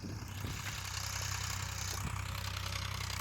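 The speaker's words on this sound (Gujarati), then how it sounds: "આમ ટ્રેક્ટર ચાલે છે." A tractor engine runs in a farm field with a low, steady rumble that holds constant, heard from nearby with no speech.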